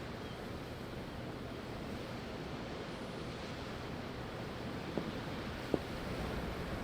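Ocean waves in Tales of Arise, a steady broad wash of surf with wind-like hiss, continuous and even, with a couple of faint clicks near the end.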